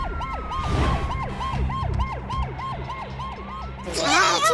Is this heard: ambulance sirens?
yes